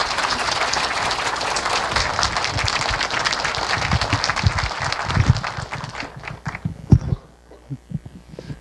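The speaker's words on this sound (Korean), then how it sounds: "큰 박수로 맞아주시기 바랍니다." Audience applause at a public science lecture in Korea, greeting astronomer Lee Myung-hyun as he comes forward; dense, steady clapping fills the room for about six seconds, then thins out and fades.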